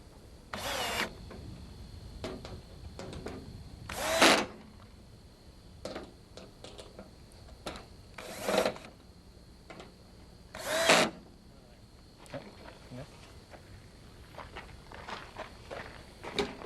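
A power drill driving screws into the top rails of an above ground pool: four short, loud whirring bursts spaced a few seconds apart, with quieter handling and footstep sounds in between.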